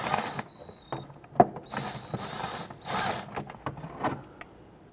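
A ratchet wrench loosens and removes 10mm bolts on a 1992–1996 Toyota Camry 2.2L, giving close, uneven clicking and metallic squeaks in short bursts.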